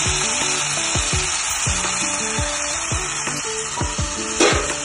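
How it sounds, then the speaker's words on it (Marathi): Tomato fries in a pan for a matar paneer gravy: a loud, steady sizzling hiss runs throughout, with rhythmic scraping strokes repeating beneath it, and no voices. "आता आपण त्याच्यामध्ये हा टोमॅटो टाकलेला आहे।"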